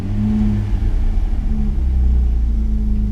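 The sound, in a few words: engine starting and idling after tuning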